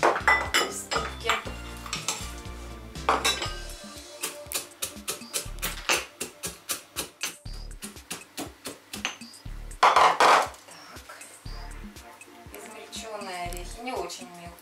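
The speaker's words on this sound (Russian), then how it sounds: "Орехи я буду измельчать в ступке." Nuts are crushed in a mortar with a rhythmic run of sharp pestle knocks and grinding clatter, close and distinct, while a voice speaks in between.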